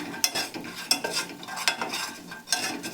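Gram flour is stirred and roasted over low heat in a pan, a spoon scraping in quick repeated strokes with a soft, dry sizzle underneath, close and fairly quiet.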